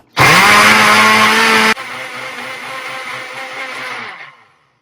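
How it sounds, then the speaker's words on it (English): A blender whirs loudly as it blends banana with milk, a steady high-pitched roar that drops to a lower, softer spin after about a second and a half before winding down and stopping. "So just put in the banana and add 1 cup of milk. Close the lid. Blend it."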